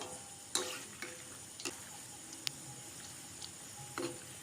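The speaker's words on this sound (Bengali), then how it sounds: "তেলে ছাড়ার সময় আপনারা একটু সাবধানে ছাড়বেন যাতে গায়ে ছিটে না আসে" Sugar palm fritters frying in hot oil, a steady soft sizzle broken by a few sharp ticks and spatters as pieces are turned, quiet and close with no talking.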